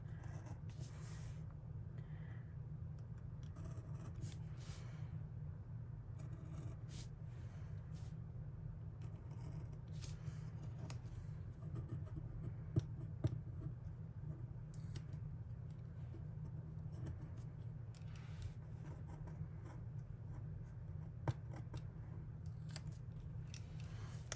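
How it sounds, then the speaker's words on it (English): Scissors trimming paper and washi tape for a vertical Happy Planner layout, heard as faint, intermittent snips and paper rustles over a constant low hum, without any speech. "I'm going to trim these off."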